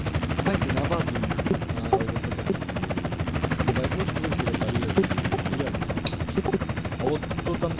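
A helicopter's steady rotor thrum runs through the whole stretch at constant, fairly close loudness, with voices talking over it.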